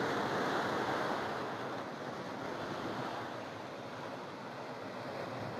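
Sea waves wash steadily onto a beach in Thailand, a continuous loud hiss of surf with some wind noise and no voices.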